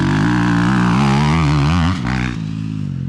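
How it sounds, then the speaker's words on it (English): Dirt bikes, a 2023 TBI 300 and a Yamaha YZ250F, ride past on a practice turn track, their loud engines droning and revving steadily with shifting pitch, then fading slightly toward the end. "Here comes Mason on his 2023 TBI 300. Tyler on his YZ250F."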